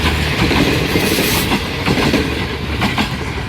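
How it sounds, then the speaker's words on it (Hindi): The long Green Line Express passenger train in Pakistan, heading toward Lahore station, rumbling past loud and close with a steady clickety-clack of wheels over rail joints and no talk. "ग्रीन लाइन एक्सप्रेस का, जो कि अभी लाहौर स्टेशन की जानिब रवां दवा है"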